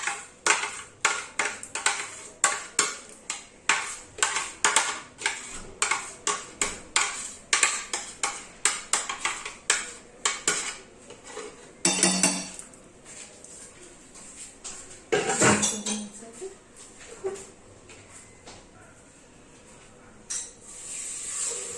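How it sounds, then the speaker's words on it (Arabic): Spoon or whisk scraping and tapping in a bowl while chocolate cake batter is mixed, a fast repetitive rhythm of clinks and scrapes, close and fairly loud, with short pauses. "كنكملوا تخليط كيكه."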